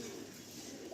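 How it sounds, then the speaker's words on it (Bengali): A Malwai pigeon coos faintly beneath a hiss of steady background noise in one short, continuous low murmur. "এটা হচ্ছে একটা মালবাহী পায়রা"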